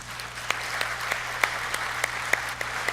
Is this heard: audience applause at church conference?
yes